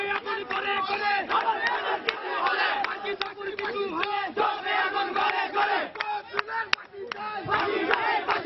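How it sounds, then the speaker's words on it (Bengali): Student protesters at MC College in Sylhet chant and shout together as a large crowd, loud rhythmic massed voices rising and falling in repeated slogans, heard nearby and continuous. "সিলেটে কলেজ ছাত্রীকে কুপিয়ে জখমের প্রতিবাদে এমসি কলেজে বিক্ষোভ করছেন সাধারণ শিক্ষার্থীরা"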